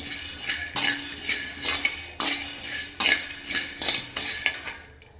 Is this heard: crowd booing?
no